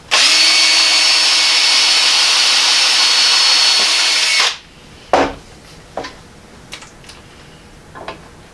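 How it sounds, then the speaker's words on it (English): A power drill drives screws through oak bed boards into the sideboards of a Model A hot rod shop truck: a loud, steady high whine for about four seconds, then stops, followed by a few sharp knocks and clicks of wood handling. "I'll screw these to the sideboards while I'm at it"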